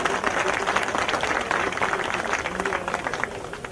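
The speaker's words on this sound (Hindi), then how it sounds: "ताली बजा के स्वागत करें।" Audience applause fills a Congress party rally in Jaipur, a dense, steady wash of clapping that holds at an even level from start to finish, with no voices rising above it.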